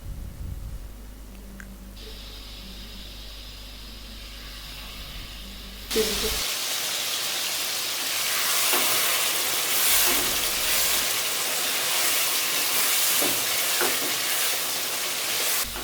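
Chicken karahi frying with dry coriander, sizzling loudly and steadily in the pan once cooking noise kicks in partway through, after a quieter humming stretch, with occasional stirring clinks.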